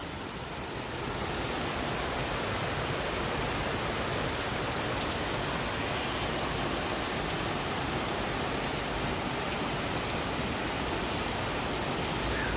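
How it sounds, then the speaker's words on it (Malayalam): Heavy, steady rain pours down continuously, a dense even hiss of water with no breaks and no voices. "മഴയുടെ വെള്ളത്തിൻ്റെ ശബ്ദം മാത്രം"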